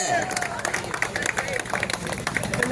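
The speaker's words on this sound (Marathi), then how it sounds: "जर आले असतील तर निश्चितपणे टाळ्यांचा कडकड झाला पाहिजे." Audience clapping at a district-level bodybuilding competition in Kawade, a dense run of applause with crowd murmur, close and steady under an announcer's voice.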